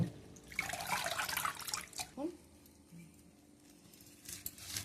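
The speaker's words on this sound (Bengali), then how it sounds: "বন্ধুরা আমি এখানে মেথি শাক নিয়েছি আর ভালোভাবে বেছে এই যে ভালো করে জল দিয়ে চকুটে ধুয়ে নেব।" Running tap water splashes over fenugreek leaves being washed in a kitchen sink, a soft gush with a brief pause and a few handling clinks, fairly faint and close.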